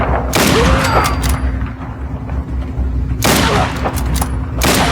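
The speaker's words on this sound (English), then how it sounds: "Now it's a little slower shooting. The rate of fire is less here." A modern rifle firing in Fallout 4, several loud booming shots in two bursts with reverberant tails and a quieter stretch between them.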